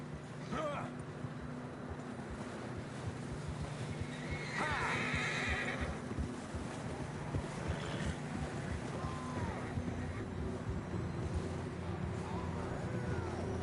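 Horses in the video game Red Dead Redemption 2 whinny and neigh over a steady wind-like rush, with some hoof clatter and faint voices mixed in the background.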